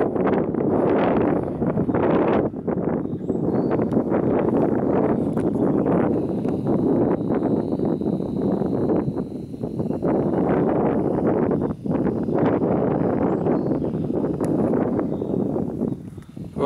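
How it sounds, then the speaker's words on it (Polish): Gusty wind buffets the microphone outdoors on a spring forest hike to castle ruins, loud irregular low rumbling blasts rising and falling continuously throughout. "Pięknie tu, ale wieje."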